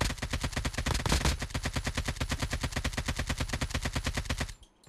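Call of Duty Mobile gunfire plays as a rapid, unbroken stream of loud, evenly spaced shots from weapons firing with unlimited ammo and no reloading, then cuts off abruptly just before the end.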